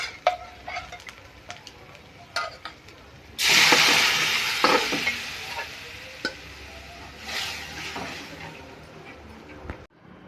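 Dal and spinach drop into a pan of red-fried masala, setting off a sudden loud sizzle that hisses on with intermittent stirring clinks and scrapes, after quieter utensil taps.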